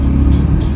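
Steady low road rumble and tyre noise inside the cabin of a new electric car with a single layer of sound damping in its four doors, continuous and moderately loud with no talk.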